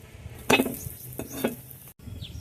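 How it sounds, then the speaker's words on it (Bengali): Oil sizzles steadily in a pan as winter-vegetable snacks fry, while a couple of sharp clatters from stirring or turning food break in, with a short gap near the end. "আমি ঘি না দিয়ে তেল দিয়ে ভেজে নিচ্ছি"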